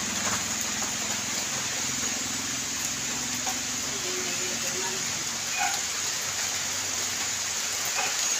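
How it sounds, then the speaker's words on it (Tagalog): Steady rain falls during Typhoon Kristine, a continuous wide hiss of drops on surfaces with faint distant engine rumble underneath, and no voice over it. "Ayun, maulan."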